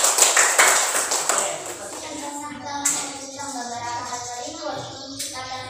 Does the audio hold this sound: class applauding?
yes